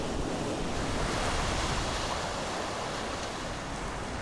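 Rough Bering Sea waves churn under strong wind in a dense, continuous roar, steady and enveloping with no voices.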